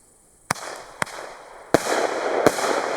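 White Widow firework cake with small 20 mm shells: four sharp launch thumps at uneven intervals, followed by a rising crackling hiss of bursts, loud and fairly close.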